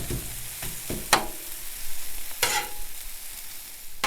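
Steady sizzling of pork frying on a hot flat-top griddle, broken by a few sharp scraping clanks of a metal spatula.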